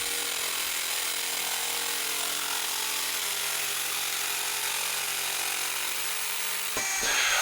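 A power tool saws through the corners of a wooden charcuterie board with a steady, loud whine that runs without a break, then stops abruptly near the end.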